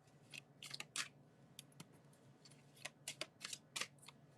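Tarot cards are shuffled in quick, soft bursts of riffling and slapping, quiet and close, with brief pauses between the flurries.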